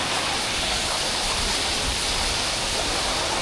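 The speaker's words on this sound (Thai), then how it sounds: "โอ้โคตรใหญ่น้ำตก" Sarika Waterfall in Nakhon Nayok roars in a loud, steady wash of falling water. The broadband rush stays constant throughout with no pauses and no voices.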